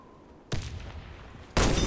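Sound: sniper rifle gunshots in the video game Warface

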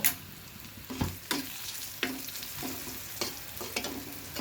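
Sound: frying in oil in a pan

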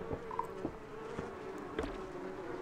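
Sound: bees buzzing in video game Donut County

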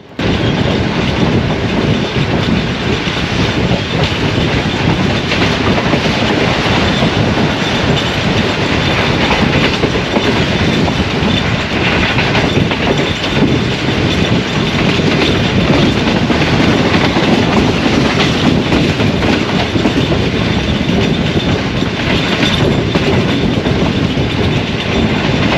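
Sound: Shah Hussain Express train passing Mehrabpur

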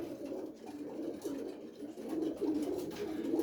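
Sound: pigeons cooing at a pigeon exhibition

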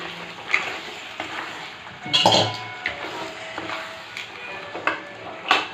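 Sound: crab being added to the pan for gravy

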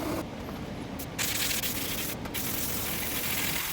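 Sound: spray gun spraying paint on helmet

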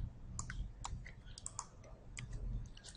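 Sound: mouse click on the Activate button in software

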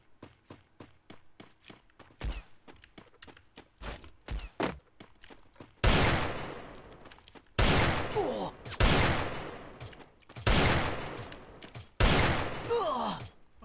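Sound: gunfire from snipers and pistols in Free Fire video game

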